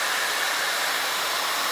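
A hair blow dryer runs close by with a loud, steady airy roar and no break, heard alone.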